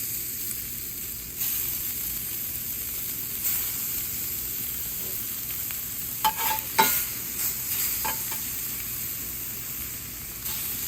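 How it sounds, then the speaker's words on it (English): Catfish fries in a hot pan, a steady loud sizzle throughout with a few louder crackles and pops partway through, no talking. "Got my pan nice and hot. Drop in some fish."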